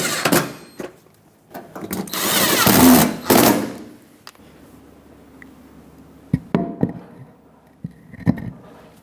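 A power tool drives 5.5mm screws along the fender of a 2000-2005 Ford Excursion, with one long whirring burst near the start followed by short sharp bits of tool noise and clatter.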